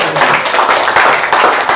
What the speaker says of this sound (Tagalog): magagawa din natin pumalakpak ng malakas para sa iyo